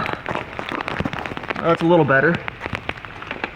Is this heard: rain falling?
yes